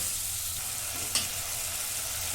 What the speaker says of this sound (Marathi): टॅमॅटो उभं चिरून घेतले दोन मी टॅमॅटो काही पण जरा वेळ परतून घेते